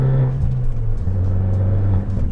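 A tuned Abarth 500 turbo engine with Euro 6 electronics revs and accelerates with a deep, throaty rumble and rising whir, loud and close, its pitch climbing steadily, sounding slightly choked under acceleration.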